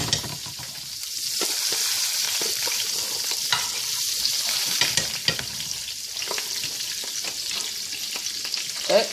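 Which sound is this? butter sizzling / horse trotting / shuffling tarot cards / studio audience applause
butter sizzling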